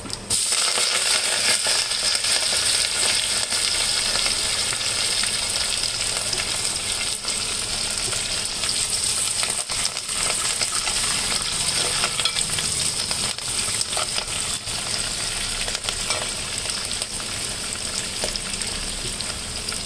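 Fenugreek leaves sizzle and crackle steadily in a hot pan of oil while being fried for a tamarind stew, a loud, continuous frying hiss with occasional stirring clinks and no talking.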